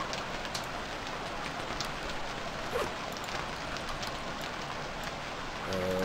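Steady rain pours down in the survival game Stranded Deep, a dense, even hiss of drops on surfaces that carries on without a break and stays loud throughout.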